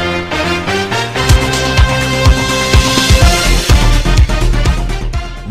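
Short musical jingle opening the Who Said That podcast segment, with steady full-band music and punchy low drum hits building through the middle, loud and continuous with no talking.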